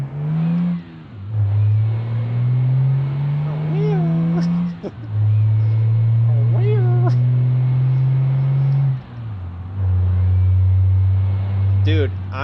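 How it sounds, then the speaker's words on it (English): A car engine with a turbo in BeamNG.drive revs in long, droning pulls that rise in pitch, break off and start again, with a thin whine over the engine note. "This turbo sounds so funky."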